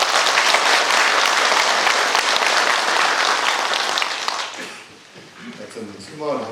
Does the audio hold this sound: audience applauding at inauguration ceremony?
yes